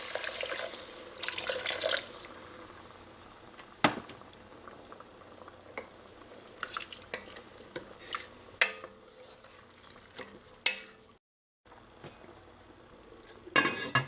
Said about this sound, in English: Add enough water to cover everything in here.